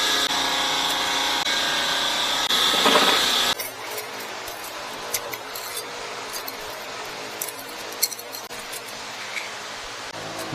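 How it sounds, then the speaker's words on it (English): Wheel balance weights come off an aluminum alloy rim at a tire changer, starting with a loud whirring tool that cuts off, followed by scattered metallic clinks, taps and scrapes close by, with no talk. "I like taking off the weights"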